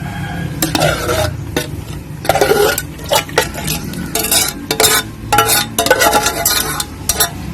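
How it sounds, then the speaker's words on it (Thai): Shrimp and minced pork stir-fried together in a pan for a crispy fried water spinach salad dressing: a utensil scrapes and clacks against the pan in quick, repeated bursts over a steady close sizzle. "กุ้งกับหมูสับนะคะ เราเอาไปรวนด้วยกันนะคะ"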